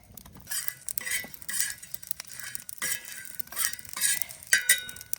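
Spices roast in oil in a pan, probably a metal kadhai, for a rustic village-style mutton paya curry. Close scraping, stirring and clinking runs unevenly throughout over a faint sizzle, with no talking.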